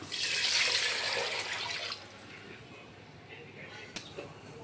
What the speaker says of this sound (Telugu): దీనికి వాటర్ పోస్తున్నా